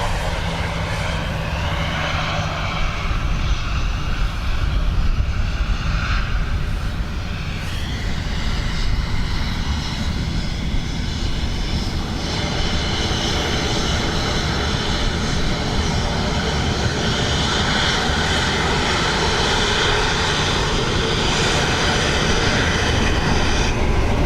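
Jet airliner landing with its engine thrust reversers deployed, a loud continuous roaring rush that stays strong and steady for the whole stretch, with no voices.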